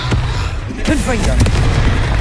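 A Confringo blasting spell detonates in a Harry Potter video game, giving a loud, deep, rumbling boom that fills the whole moment, with a voice heard over the blast.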